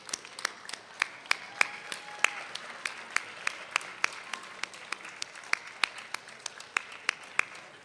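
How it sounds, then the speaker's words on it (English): Students and guests at a health sciences university white coat ceremony applaud in a large hall, with scattered individual claps standing out sharply over a softer wash of clapping that stays fairly quiet. "I want you to give them a big round of applause for all that they've done"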